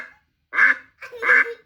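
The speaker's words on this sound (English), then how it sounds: "This is what ducks sound like." Recorded duck call played back: two clear quacking bursts, close and fairly loud, with brief silence between.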